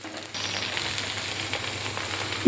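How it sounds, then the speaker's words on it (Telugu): Coriander seeds drop into hot oil and a bright sizzle bursts in abruptly after a brief quiet moment, then holds steady and close to the end. "నేను ధనియాలు ఇప్పుడు వేసుకున్నా అండి"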